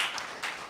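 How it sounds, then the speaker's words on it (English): Audience applause for the Marquette Blues Society at a Bluesday Tuesday blues music event, a brief, fairly faint patter of clapping hands from a crowd. "One more round of applause for the Marquette Blues Society"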